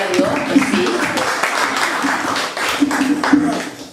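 A church congregation applauds after prayer, a steady wash of clapping mixed with cheers and voices, fairly close and loud for several seconds.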